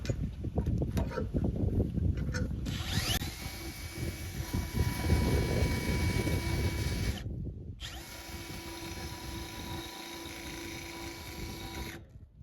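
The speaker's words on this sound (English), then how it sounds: "Either my drill bit's not that sharp or they made this tractor out of the good stuff." A power drill bores into thick tractor steel with a steady loud grinding whine that runs almost without break, cut off briefly twice.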